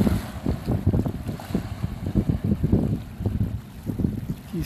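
Strong wind gusts across a beach by the sea, too strong for flying a drone. It sounds like loud, uneven rumbling buffets that pulse steadily throughout, with no voices.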